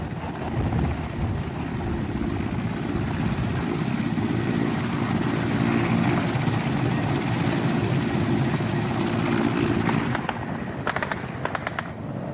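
A Colombian army helicopter lifts off after dropping a commando unit, its loud, continuous rotor roar filling the whole stretch, with sharp crackling bursts breaking in near the end.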